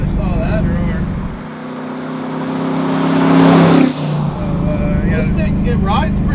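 A modified 1965 Ford Mustang with big four-piston brakes and drilled discs drives along, its engine droning steadily and swelling through a rising rev before settling, heard from inside the car with people talking over it.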